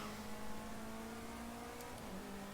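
Race car engine on an out lap in the racing game Project CARS 2, a quiet steady drone at constant pitch with a slight dip near the end, faint and continuous.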